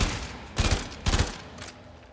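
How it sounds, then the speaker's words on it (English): Weapon fire in the action role-playing video game Warframe, heard as two loud, booming bursts of rapid gunfire in quick succession, each about a quarter second long, over a rumbling game backdrop with no talking. "Oh no, weapon fire. It is weapon fire."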